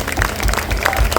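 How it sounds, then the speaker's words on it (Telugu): A church congregation at a feast-day Mass gives a short burst of applause, with dense, overlapping claps at moderate distance. The clapping is loud and fills the whole brief moment. "వారికి కూడా చప్పట్లు కొట్టాం. ఒకసారి కొట్టండి కూడా"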